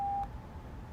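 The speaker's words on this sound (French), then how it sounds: "Veuillez laisser votre message après le bip." An Orange voicemail beep, a single short pure tone at the start, followed by a brief quiet line hiss.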